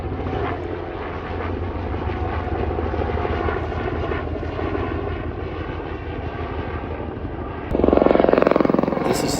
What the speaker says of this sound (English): This is the second helicopter flying over within 5 minutes.